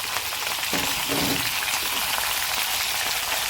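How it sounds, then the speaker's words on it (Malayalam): Chicken pieces frying in a pan for Saudi-style kabsa give off a loud, continuous crackling sizzle, dense and even like rain, with no talk over it. "5 മിനിറ്റായി ഇതിവിടെ ഫ്രൈ ചെയ്യാൻ തുടങ്ങിയിട്ട്"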